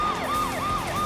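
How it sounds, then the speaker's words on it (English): Police cruiser sirens from the Space Precinct sci-fi TV series wail in a steady rising-and-falling cycle, loud and continuous with no talking, repeating about three times. "Lots of cruisers flying around, sirens blazing."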